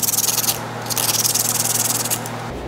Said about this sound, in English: Piece of sandpaper right here.